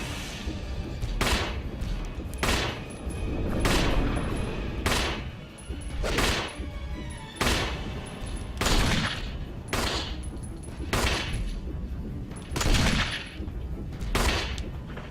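Repeated gunshots ring out in the Resident Evil HD remake during a fight in a lab area, a steady series of loud, booming reports roughly every second over a rumbling game soundscape, with no talking.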